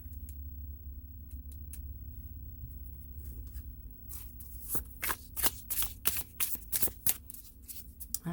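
Tarot cards are shuffled and drawn near at hand, starting with faint scattered rustles and then turning into a rapid run of crisp riffling snaps and slaps in quick bursts.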